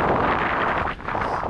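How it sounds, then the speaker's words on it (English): Wind gusting over open moorland in the freezing Yorkshire Dales, a steady loud roar buffeting the microphone with a brief lull midway before surging back. "Wind."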